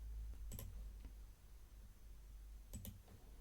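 Computer mouse clicks, two quick double clicks about two seconds apart, close and crisp against a quiet low hum in a room.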